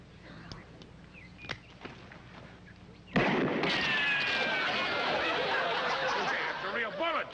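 A single loud pistol shot fired in an Old West duel rings out sharply midway, followed by sustained noisy commotion, with voices talking both before and after.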